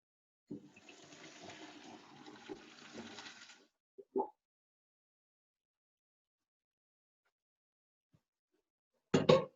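Pasta cooking water poured off from a pot while making Amatriciana in a kitchen, a steady splashing gush for about three seconds, followed by a brief clunk and a later short clatter.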